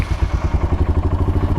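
A Royal Enfield Himalayan motorcycle engine fires up and settles into a loud, close, lumpy rhythmic thumping with a clattery edge, heard alone.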